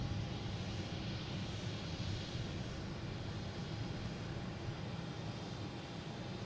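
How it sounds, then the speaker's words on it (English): A private jet at Boston Logan International Airport gives a steady, broad engine roar that holds level and loud throughout, with no pauses and no voices. "There's another private jet here."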